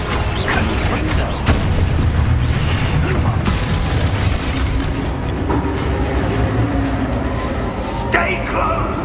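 Confringo blasting spell from Hogwarts Legacy booming amid a dense, loud wash of game sound effects, with rumbling mechanical noise throughout and a sharp burst near the end; voices are heard faintly in the mix.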